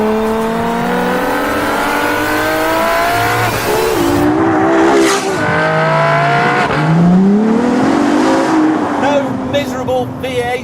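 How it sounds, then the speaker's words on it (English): A Ferrari LaFerrari V12 roaring loud and close, its pitch climbing and dipping as it revs and shifts, with a voice speaking over the engine. "That is Ferrari's greatest hit. The sound of 12 cylinders properly arranged in a V."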